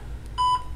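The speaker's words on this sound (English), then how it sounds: "Alarm is triggered again." Alarm from a Scratch-based anti-theft program going off: a single short electronic beep tone, faint and brief, over a quiet low hum.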